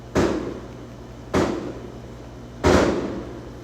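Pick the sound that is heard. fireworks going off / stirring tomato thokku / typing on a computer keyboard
fireworks going off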